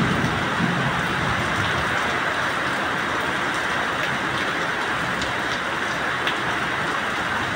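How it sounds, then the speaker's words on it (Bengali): A heavy, continuous downpour on a dark, foggy day roars as a dense, even wash of rain with no pauses, loud and close throughout. "একদম কুয়াশাচ্ছন্ন, ঘন কালো প্রচুর বৃষ্টি হচ্ছে, যাকে বলে কন্টিনিউয়াসলি বৃষ্টি"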